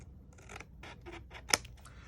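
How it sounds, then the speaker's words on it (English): Scissors snip across a folded cardstock flap on a scalloped thank-you gift box, a few crisp close cuts spaced through a quiet moment, with one sharper snap near the end. "I'm just going to use my scissors and come across"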